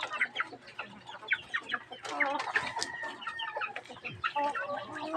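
Backyard chickens in a coop at feeding time, clucking and squawking busily in overlapping calls close by, with a brief crow-like cry mixed in and no talking.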